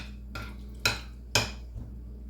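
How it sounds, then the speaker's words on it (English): Bean dip being mixed in a bowl, with three sharp clinks of utensil against the bowl at an uneven pace, then a softer tap, over a low steady hum. "we're going to take our time and mix this together. Completely mix it"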